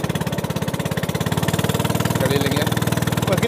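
A ketinting longtail boat engine running on Lake Lampulung during a fishermen's festival boat race, a loud rapid even chugging pulse close by, heard alone without talk.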